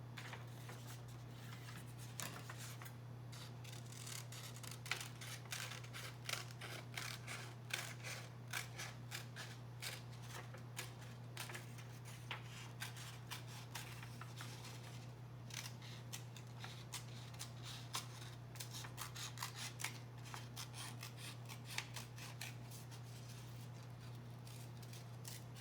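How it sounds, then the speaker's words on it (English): Scissors snip through paper while cutting out craft shapes for a Grover puppet, giving a dense run of small crisp clicks and crunches, close and quiet over a steady low hum. "now I'm going to cut my shapes out"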